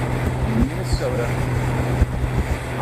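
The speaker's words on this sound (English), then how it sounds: "This wind out here." Steady wind roar buffeting the rider on a Gen 6 Goldwing motorcycle cruising a highway in Minnesota, continuous low rumble with engine drone underneath and brief gusty bumps.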